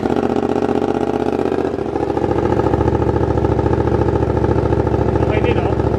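A Yamaha MT-07 motorcycle fitted with an SC Project exhaust idles close by with a loud, steady throb, and its tone shifts slightly partway through. Voices talk over the engine.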